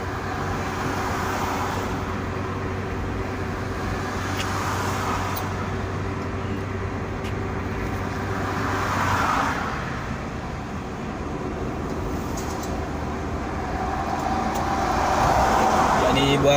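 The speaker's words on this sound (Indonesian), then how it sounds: "sepanjang jalan ini kendaraan tidak terlalu padat" Steady road traffic hums on the Reformasi toll road in Makassar, a continuous car-interior drone with passing vehicles swelling and fading, while someone talks over it.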